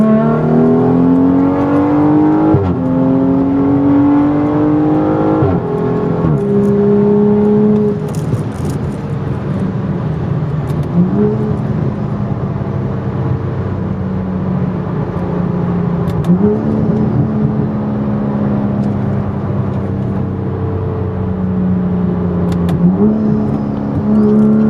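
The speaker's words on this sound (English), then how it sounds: "The intoxicating sound with the turbo spool paired with the inline-6 exhaust note from this M55 engine" Straight-piped BMW M55 inline-six roars through repeated revs, its exhaust note rising and falling in steady pitch sweeps with a whirring turbo spool above, loud and close with no talking.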